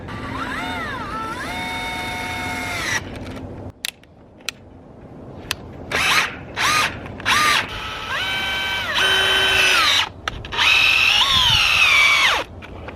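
A power drill drives long screws into a log, its motor whining in a series of loud, rising bursts separated by short pauses, close by with no talking.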